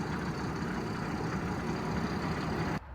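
A tractor idles at about 400 RPM after baling on a farm, giving a low, steady, fairly quiet engine rumble that stays even throughout and drops away abruptly just before the end.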